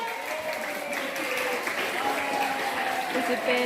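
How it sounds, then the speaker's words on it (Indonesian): An audience at a student council candidates' debate claps, a steady wash of many hands at moderate distance, with some voices and murmuring mixed in beneath the patter throughout. "Tepuk tangan dulu."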